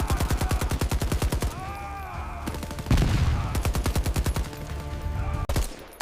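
Rapid gunfire in a sci-fi short film, fast rhythmic bursts of shots rattling across most of the stretch with a brief pause, loud and close with dramatic music beneath.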